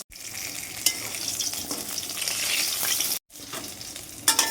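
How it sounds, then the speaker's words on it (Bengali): Steady, close sizzling of fish frying in hot oil, with a couple of sharp clatters as the pieces are flipped in the pan and a brief dropout mid-way. "এভাবেই একটু পরে পরে উল্টে পাল্টে মাছগুলোকে লাল লাল করে ভেজে নেব"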